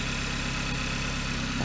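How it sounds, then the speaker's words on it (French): A car engine idles steadily and close by for under two seconds, with a continuous low rumble and no voices over it. "je vais couper le moteur pour qu'on m'entende"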